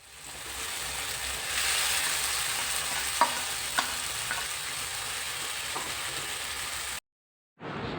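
Long-sliced garlic frying in a pan for chicken roast, a soft steady sizzle with a few sharp clinks of the stirring spoon, ending in a brief silence.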